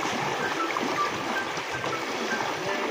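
Fast-flowing river current rushing steadily, a broad continuous wash of water noise that stays close and fairly loud for the whole stretch, with no voices over it.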